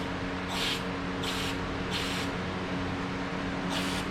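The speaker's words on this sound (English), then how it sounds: "So I want the float down, so I have to spray it like this." Carburetor cleaner sprayed into a Murray carburetor gives four short hissing bursts with pauses between them, close by and steady against a faint background hum.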